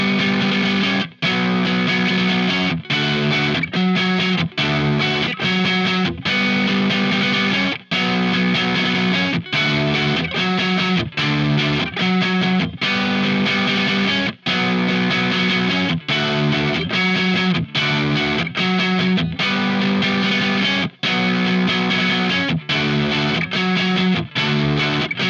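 A distorted electric guitar plays the chorus riff of Incubus's "Rogues" slowly, with steady strummed chords in a repeating pattern, short gaps between phrases, loud and close with no talking.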